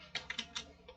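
A few quick, close keystrokes on a computer keyboard end in an Enter press, quiet and crisp, about five separate clicks in one second with no talk.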